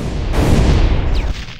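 Explosion Quirk blast in My Hero Academia Final Ember, heard as a loud, close, rumbling burst that swells and then fades over under two seconds.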